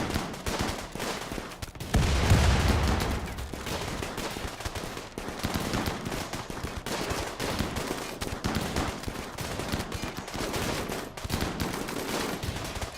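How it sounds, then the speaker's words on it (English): Gunfire in the video game RimWorld aboard a grav ship: dense, continuous bursts of shots and rapid automatic fire rattling throughout, moderately loud with no pauses. "Stop shooting, Scheme."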